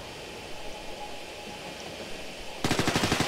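Gunfire in the video game Ghost Recon Future Soldier during a multiplayer match: a steady roar of background noise breaks into a loud, rapid automatic burst of shots near the end.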